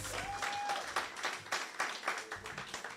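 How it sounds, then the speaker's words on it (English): Audience applause for a candidate at a live political event in Sint Maarten, a burst of clapping that swells and rolls on in uneven waves, with a faint sustained tone and scattered voices underneath. "Let's give our candidate number 12 a round of applause."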